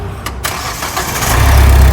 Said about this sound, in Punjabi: ਬੇਟਾ ਗੱਡੀ ਸਟਾਰਟ ਕਰਿਓ